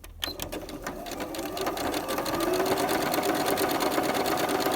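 A sewing machine runs a test seam with an elastic stitch, its needle chattering in a steady rapid rhythm that starts right away and holds at an even, close volume throughout, with no talking.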